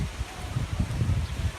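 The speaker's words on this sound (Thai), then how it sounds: "ลมแรงมากเลยค่ะ" Strong seaside wind at Laem Phromthep buffets the area with a loud, low, gusty rumble, continuous and close, with no voices.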